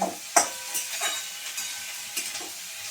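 Onion greens and soybean chunks frying together in a pan, with a few sharp stirring scrapes and clinks over a continuous hissing sizzle, close and fairly loud, with no talking.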